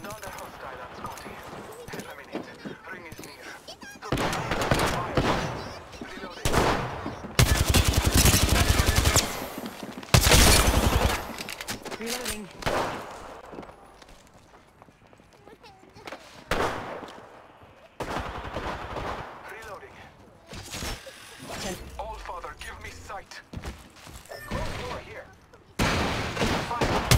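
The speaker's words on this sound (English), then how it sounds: "I'm taking fire." Bursts of gunfire in the battle game Apex Legends, loud rapid volleys coming in several clusters with quieter gaps between them, while voices talk over parts of the fight.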